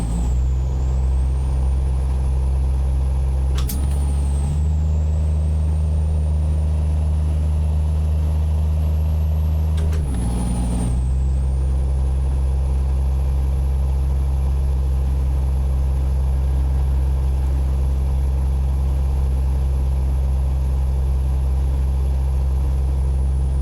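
A heavy truck engine in American Truck Simulator, a 14-liter comparison unit, drones loud and steady with a deep, flat tone. Two brief hiss-like shift breaks interrupt it before it settles back into a continuous close roar, with no speech.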